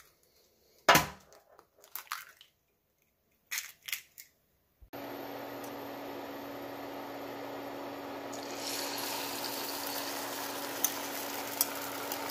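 Beaten egg frying into a thin sheet in a pan, a steady hiss of sizzling that starts suddenly after a few soft knocks and clatters, then brightens slightly and continues alone with a couple of faint clicks.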